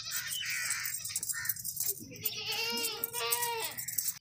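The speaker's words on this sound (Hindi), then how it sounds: "भागती दौड़ती सेहतमंद बकरी है, साफ़ सुथरी अच्छी बकरी है।" A healthy, clean dairy goat at a farm bleats several times close by, with wavering cries over steady low background noise and no clear speech.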